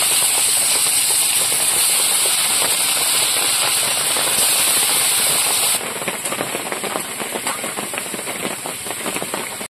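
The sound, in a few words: pomfret fish frying in a pan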